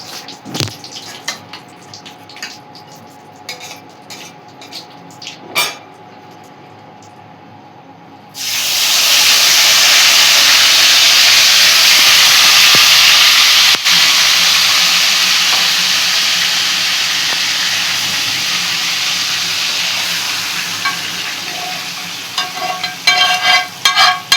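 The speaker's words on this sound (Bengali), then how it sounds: "এবার আমার ম্যারিনেট করা মাংসটা দেখো দিয়ে দেবো একটা একটা করে।" Marinated chicken pieces for chicken chaap added to hot oil in a pan, heard as a sudden loud, steady hiss of sizzling that starts after a quiet lead-in and holds for over fifteen seconds with a few clinks, close up.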